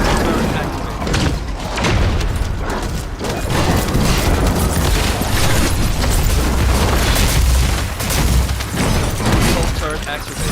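Assault turret firing in The First Descendant, a dense, continuous barrage of booming blasts and mechanical bursts that never lets up, with voices talking over the combat.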